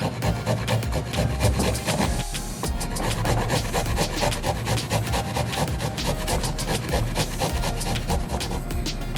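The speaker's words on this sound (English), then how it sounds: "So I'm also going to put some garlic in my little grater here." Garlic is grated on a small kitchen grater with a continuous, close and fairly loud rasping scrape that runs steadily throughout with dense repeated strokes.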